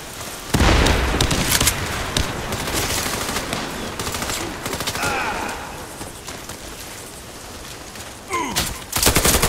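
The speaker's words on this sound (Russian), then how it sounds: "Кидаю гранату!" Sustained automatic gunfire in the Warface shooter game after a grenade throw, loud dense bursts of shots with booms, a brief lull midway and renewed heavy fire at the end.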